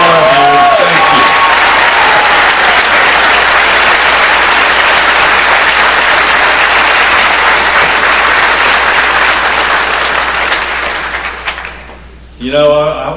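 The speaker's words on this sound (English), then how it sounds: "let's give them a round of applause" Convention crowd at the 2014 NCGOP State Convention applauding veterans, loud sustained clapping and cheering filling the hall for about ten seconds before fading, with a voice at the end.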